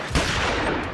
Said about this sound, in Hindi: दिव्या के सिर से सटाकर एक के बाद एक 2 गोलियां दागी।